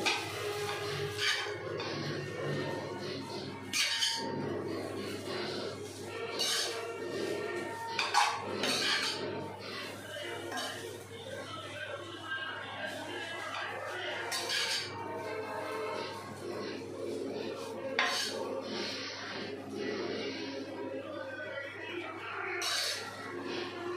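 Food seasoned with salt being stirred in a pan on the stove, with repeated scraping and clinking of a utensil against the metal at a steady close-up pace.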